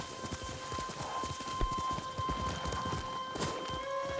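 Horse hooves clip-clop in the video game Ghost of Tsushima, a rapid, steady rhythm of fairly close hoofbeats continuing throughout under faint ambient game sound.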